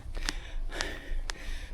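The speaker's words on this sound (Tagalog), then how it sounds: "Grabe hingal ko guys." Heavy, rhythmic panting from someone winded after walking uphill near Macau's A-Ma Temple, three sharp breaths spaced roughly half a second apart, close to the mic over steady outdoor background noise.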